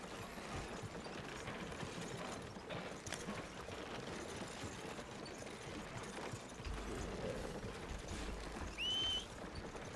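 Steady hoof clip-clop from a horse in Red Dead Redemption 2, with a rumbling, busy background throughout and a brief tonal chime near the end.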